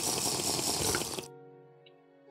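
Drinking a water breathing potion in Minecraft: a loud gulping, bubbling burst for just over a second, cut off into a faint sustained tone.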